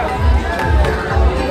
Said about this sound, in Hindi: बहुत भीड़ है गाइस।